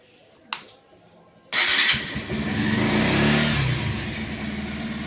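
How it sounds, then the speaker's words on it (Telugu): A Bajaj Pulsar motorcycle's starter cranks after a faint click, and the engine catches and settles into a close, loud, steady idle that continues to the end. "బండి స్టార్ట్ చేస్తున్నాము."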